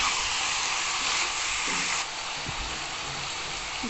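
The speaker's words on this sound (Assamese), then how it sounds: "ইয়াৰ তেলটো ওলোৱালৈকে ভাজিম।" Salted pork pieces fry in oil in a pan, giving off a steady, dense hiss and sizzle that fills the clip, with no one talking.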